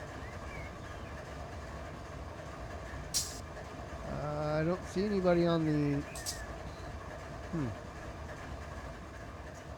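A train in the Run 8 simulator rolls in under a steady low rumble, its horn sounding a long, rising blast in the middle, then a shorter call, while someone talks quietly over it.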